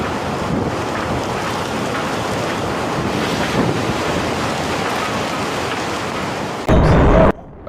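Storm waves surging against harbour seawalls on the coast of China, a continuous loud roar of surf and wind with heavy gusty rumble, ending in a brief burst of stronger wind buffeting on the microphone.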